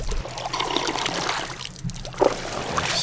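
Water being collected in the game Miasmata trickles and pours quietly and steadily, with a brief sharper splash near the end.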